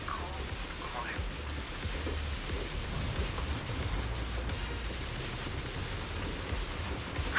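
Heavy rain falls steadily in Zenless Zone Zero, a constant dense hiss and patter that stays even throughout, with a voice faintly present beneath it.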